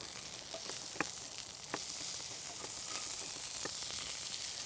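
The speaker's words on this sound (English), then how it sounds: "I can hear our meat sizzling away over here" Loose rustic meat patties with rosemary sizzle steadily in a cast iron skillet, a broad hiss that holds throughout with a few faint pops and taps.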